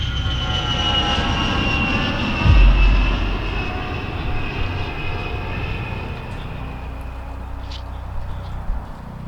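A fixed-wing airplane engine near an airport field, a loud sustained drone with a brief low thump early on, steady and close throughout with no speech.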